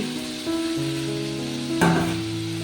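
Chopped capsicum and onion sizzle in a pan with fish roe, a soft steady frying hiss under a faint background tone, with a brief clatter of stirring near the end.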